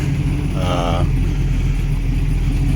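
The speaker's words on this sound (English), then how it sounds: "Got this thing idling." A V8 engine swapped into a Chevrolet Colorado idles with a deep, steady low rumble close by, briefly joined by a higher tonal whine near the start.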